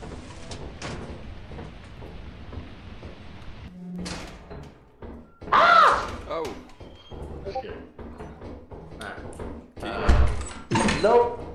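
A fire exit door in the Lethal Company video game opening and shutting with heavy metallic thunks and a slam, heard among game sounds while people talk over it.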